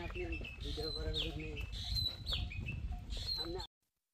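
Birds chirping and calling outdoors beside a canal, several bright, repeated tweets and short whistles close by over a low rumble of wind, before the sound cuts off abruptly near the end.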